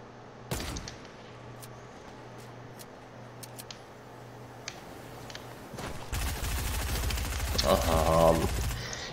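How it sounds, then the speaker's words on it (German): Gunfire in a video game, scattered faint cracks over a steady low hum, then a louder rattling burst of rapid shots toward the end. "Wer schießt denn da?"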